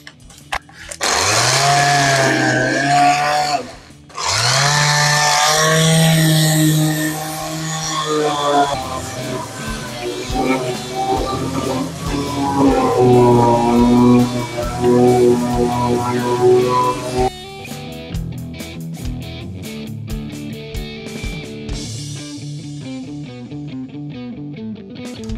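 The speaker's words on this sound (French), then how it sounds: "On va ranger ça un peu à la ponceuse." A loud, steady electric sander whine on wood runs for most of the clip with one brief pause near the start, then fades into quieter scraping and rattling.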